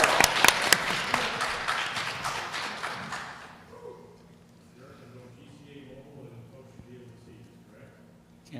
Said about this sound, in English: Sure, we can clap. Let's clap.